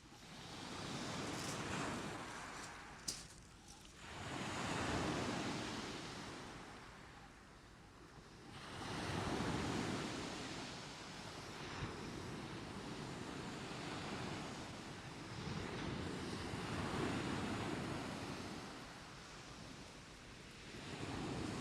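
Sea waves break and wash up on a shingle beach at Salthouse, swelling and receding in slow surges every few seconds, with wind buffeting the microphone; no voices.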